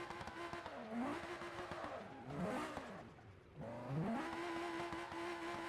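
Engine of a multi-million-dollar Ferrari-type car in BeamNG.drive holding high revs through a burnout, with rising and falling pitch sweeps, loud and close throughout, with no voices.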